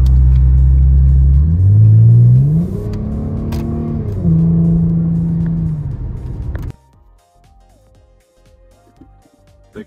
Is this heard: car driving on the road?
yes